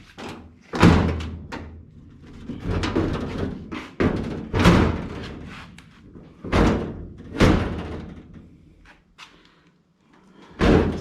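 A car door with a sagging, low-hanging fit is pushed shut several times, each a loud close thud with rattling, separated by quieter handling noises; no one talks.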